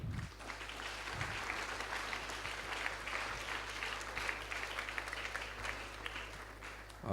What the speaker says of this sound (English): So I request you to give a big round of applause to him.